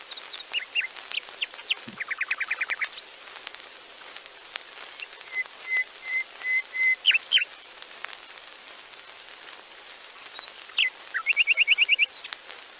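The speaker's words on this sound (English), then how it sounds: "Here we have a recording of a nightingale." Old shellac disc recording of a nightingale singing: a series of thin, high chirps, whistles and rapid trills in short phrases separated by pauses, heard faintly through hissy, crackling surface noise of the disc.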